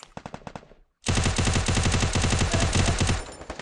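Rapid automatic gunfire in a shooter video game: a few short bursts, a brief silence, then a loud sustained stream of rattling shots that continues to the end.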